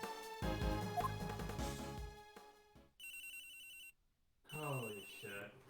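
A ringing telephone in the Ace Attorney Investigations 2 video game sounds in two loud electronic bursts separated by a brief silence, following a louder stretch of music.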